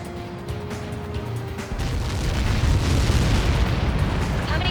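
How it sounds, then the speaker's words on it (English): A massive blast from Helios projectiles striking in Ace Combat 7 rolls in as a heavy, sustained low rumble that swells after a quieter opening and keeps roaring loudly to the end, with radio chatter faint beneath it. "How many got caught in that explosion?"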